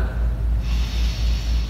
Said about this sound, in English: Just close one and sniff.